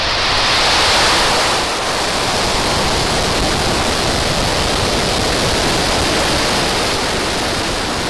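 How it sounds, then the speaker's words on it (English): SpaceX Falcon 9 rocket engines roar after a Starlink launch liftoff, a loud, dense, rushing rumble that stays unbroken and steady throughout as the vehicle climbs downrange. "Falcon 9 pushing down range."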